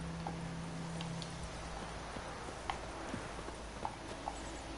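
A horse's hooves clip-clop in The Witcher 3 Wild Hunt, a steady walking rhythm of light hoof strikes over a constant outdoor ambient bed, with no speech.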